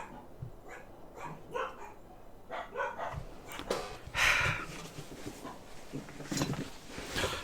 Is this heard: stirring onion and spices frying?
no